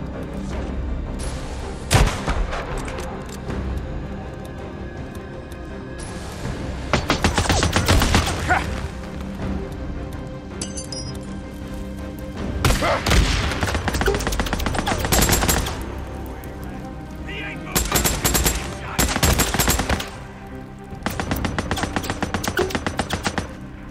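Bursts of sniper and automatic gunfire in the video game Days Gone, volleys of loud, close rifle shots arriving in several clusters over a dense, steady game soundtrack.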